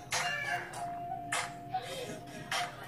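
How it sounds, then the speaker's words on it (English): A backyard chicken clucks in a few short, quiet bursts with gaps between, faint and nearby against a soft background. "That's my chicken"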